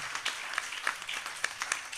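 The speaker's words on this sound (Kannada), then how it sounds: "ಒಂದು ಜೋರಾದ ಚಪ್ಪಾಳೆಯೊಂದಿಗೆ ನಾವು ಸಮರ್ಪಿಸ್ತೇವೆ" Audience clapping for a veteran Carnatic vocalist at a concert vote of thanks, moderate and steady with scattered sharper claps over about two seconds, no voices.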